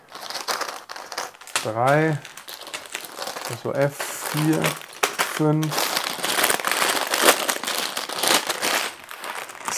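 A plastic bag crinkles and rustles loudly up close, handled in bursts while a person talks and counts aloud over it.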